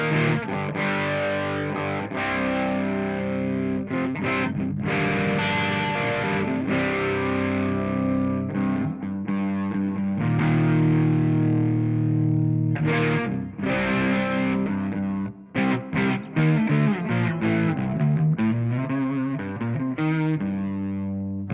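Stereo electric guitar played through a pedalboard with distortion and a subtle, low-mixed modulation effect, sustained chords ringing loudly and steadily with brief gaps near the end, no talking.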